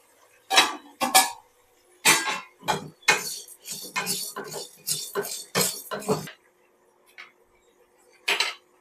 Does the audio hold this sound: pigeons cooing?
no